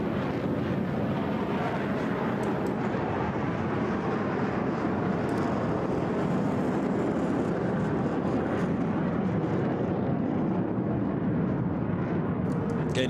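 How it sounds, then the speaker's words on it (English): HAL Tejas fighter jet with afterburner engaged pulling into a steep vertical climb at an air show: a continuous heavy, broadband roar, loud and sustained throughout, with faint crowd noise beneath. "At the end, the afterburner will be kicked back in into a steep vertical climb from the slow speed pass."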